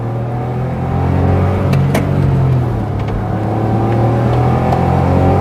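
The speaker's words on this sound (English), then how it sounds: "Well, listen to you turboing." A turbocharged Smart ForTwo engine accelerating as heard from inside the car, a loud, steady drone that swells slightly and holds for several seconds without talk.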